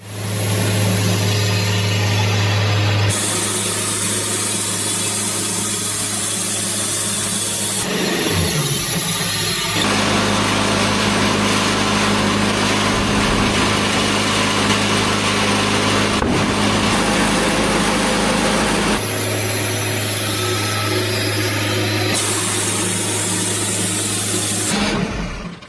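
A saw cuts through logs that hide embedded nails and scraps of metal. A loud, continuous motor drone runs throughout, shifting in pitch and load as the blade moves between cutting passes. No one speaks.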